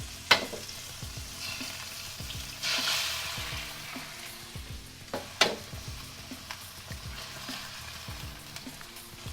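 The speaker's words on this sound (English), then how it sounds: "Give the eggs a few seconds to cook up a little bit, just to firm up." Two eggs sizzle and crackle steadily in a hot pan, with sharp spatula clicks and scrapes against the pan breaking in at intervals, cooking for Thai pineapple fried rice.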